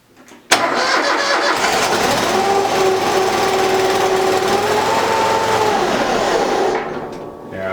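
An old engine with its choke set cranks and starts on a portable jump starter, catching at once and running loud and steady at a rising then settling pitch before easing off near the end.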